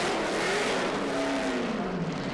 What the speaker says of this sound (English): That was one special burnout by Rick Fuller.